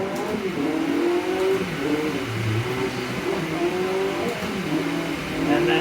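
A rally car revving hard in Dirt Rally 2.0, its engine note rising and falling steadily through repeated gear shifts, loud and continuous for the whole stretch.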